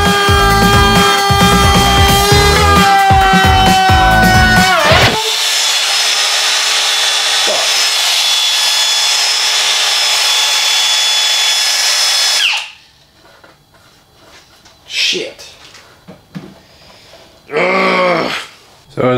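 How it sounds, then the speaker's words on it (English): A router cuts a chamfer along a wooden edge that has some rot in it: a loud, steady whining motor and then a sustained harsh cutting roar, before the tool stops and a voice speaks briefly over near-silence. "So I was routing this chamfer all along the edge of this"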